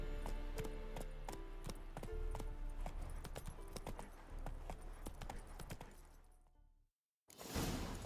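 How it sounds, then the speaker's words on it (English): A horse's hooves clip-clop steadily in The Witcher video game, loud and close in a brisk, even rhythm, then cut to a brief silence followed by a sudden whooshing burst. "Whoa there, Roach"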